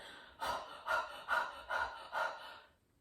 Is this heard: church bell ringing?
no